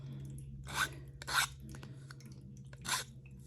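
Three separate rasping passes of a high-grit file over a coaster, each a short scratchy stroke, close and fairly quiet against a low background hum.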